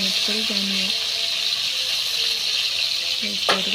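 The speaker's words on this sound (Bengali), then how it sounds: "পটলগুলো নাড়াচাড়া করে পটল ভেজে নিচ্ছি" Pointed gourd (potol) frying in oil, a steady close sizzle that continues through the whole clip, with a voice briefly heard at the start and end.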